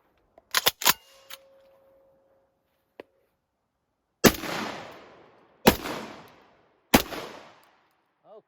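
A Citadel Boss 25 12-gauge shotgun fires three loud, close shots in steady succession, each blast ringing out before fading, with a few sharp mechanical clicks and clacks before the shots.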